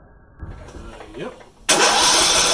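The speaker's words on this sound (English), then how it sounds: "So I'm going to just spin the motor over a couple times." A lawn tractor engine with a Peerless hydrostatic transmission is cranked by its starter, then catches and roars loudly and steadily, following a short stretch of quieter mechanical noise.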